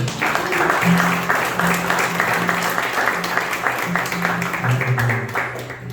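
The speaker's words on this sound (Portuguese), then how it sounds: "Você pode aplaudir o Senhor?" Continuous applause from a congregation at an evangelical church service, dense clapping at full volume with a sustained musical tone underneath.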